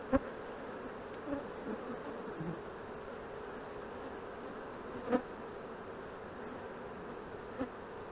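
Honey bees buzz steadily around an open hive during an inspection, a constant close hum with a few sharper knocks and clicks at intervals.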